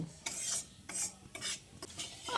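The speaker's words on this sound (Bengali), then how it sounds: "চিনিটা দিয়ে বেশ খানিক্ষণ ফোড়নের সঙ্গে নাড়াচাড়া করে নিয়েছি" Sugar being stirred with whole spices in hot oil for a vegetarian giant taro curry, heard as four rasping scrapes of a spoon against the pan at an irregular pace, quiet and close with no talking.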